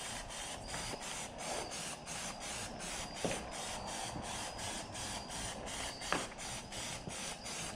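Plasti Dip aerosol sprayed onto 28-inch car rims at home: a continuous close hiss in rapid pulsed taps of the nozzle, steady and fairly loud, with a couple of faint clicks and no talking.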